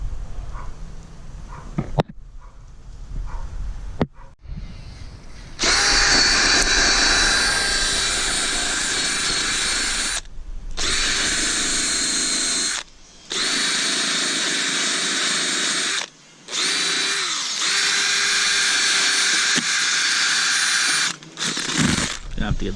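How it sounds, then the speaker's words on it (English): Angle grinder cleaning up fresh welds during rust repair on a Nissan R33, loud sustained whining grinding in long bursts broken by short stops, with quieter handling sounds before it starts. "Gonna have to get the grinder on here"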